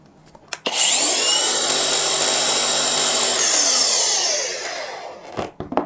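A Dongcheng DCSP02-180 Z polisher runs at 3000 RPM, spinning up to a loud, steady high-pitched whine that holds for about three seconds before winding down, with a few knocks at the start and end.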